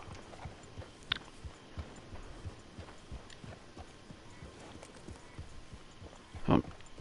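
Horse hooves clip-clopping at a steady walking rhythm in Red Dead Redemption 2, moderately close, with a louder thump near the end and a faint game ambience underneath.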